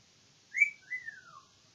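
A pet bird whistles nearby: two clear, close notes, the first a short rising chirp, the second a longer sliding whistle that falls in pitch, heard alone against a quiet room.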